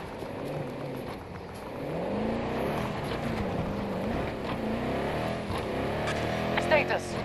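A transport vehicle in Battlefield 2042 arrives with a fairly quiet, wavering engine drone that rises and falls as it revs and approaches, under faint game ambience.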